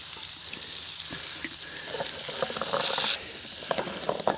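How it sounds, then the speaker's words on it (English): Food sizzles while frying in a pan, a steady hiss that swells louder toward the middle, with faint clinks from cooking. "Sizzle, sizzle."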